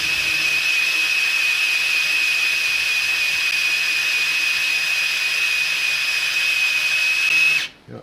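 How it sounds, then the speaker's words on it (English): An electric drill spins an engine oil pump on a Ford Fairlane, giving a loud, steady high-pitched whine that runs unbroken, then cuts off abruptly just before the end. "I just do it in small spurts to sort of let the motor on the drill rest"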